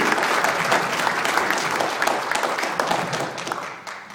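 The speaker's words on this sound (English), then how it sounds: "a round of applause for Mr. Nabi" An audience of Friends of Kashmir in Sheffield applauding, a sustained, full burst of many hands clapping at close range, with a little crowd noise mixed in before it starts to fade.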